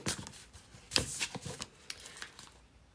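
Tarot cards being shuffled by hand, a close series of soft riffling flutters and slaps in uneven bursts, fading toward the end in a quiet room.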